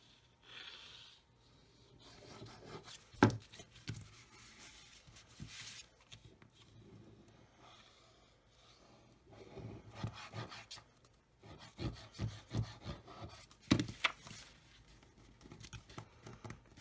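Faux leather embossed paper being burnished down onto a mini album page by hand, giving soft, close rubbing and scraping strokes in uneven bursts, with a few sharper taps and quiet stretches between passes.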